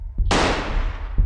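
A single loud gunshot from the horror game Backrooms Buff Doge Horror cracks close by, then its blast rings and slowly fades over about a second before a faint thump at the end.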